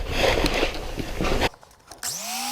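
A power tool trims a motorcycle airbox for a Bultaco Pursang restoration, a loud, close, rough grinding burst for about a second and a half, then a brief lull and a motor spinning back up in pitch.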